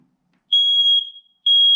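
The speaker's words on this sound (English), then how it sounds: "I know no one actually likes to hear the sound of a smoke detector" A shrill, piercing smoke alarm beeps loud and close during a test of interconnected detectors, one long tone then a brief pause before a second blast begins.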